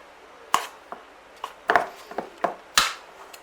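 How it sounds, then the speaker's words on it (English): A knife mixes lemonade, cream and flour into scone dough in a bowl, making about eight sharp, irregular scraping clacks against the bowl, close and distinct over a quiet background. "Now with a knife just mix it through."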